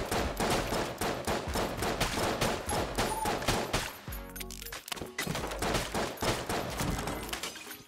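Rapid, continuous gunfire from the Enter the Gungeon video game, a dense stream of sharp shots with one brief break midway before the barrage resumes.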